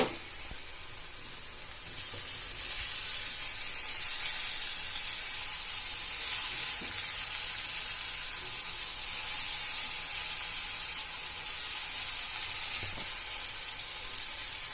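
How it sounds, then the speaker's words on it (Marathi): Chopped onion frying in a pan with turmeric and salt, a steady loud sizzle that swells after a quieter start and holds evenly, with faint stirring scrapes as tomatoes go in and are mixed. "कांदा भाजत आलेला आहे आता ह्याच्यामध्ये टोमॅटो टाकून घेऊया आपण"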